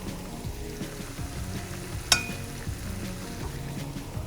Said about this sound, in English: We're gonna let it fry.